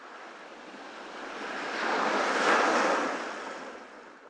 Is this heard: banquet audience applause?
no